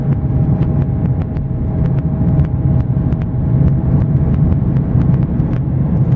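A car drives slowly over rough, puddled tracks across Salisbury Plain near Imber, heard from inside as a loud, continuous engine and road rumble with frequent sharp knocks and rattles from the uneven ground.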